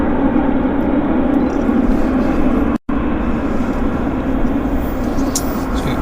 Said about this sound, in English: So we've got another SkyWest on approach.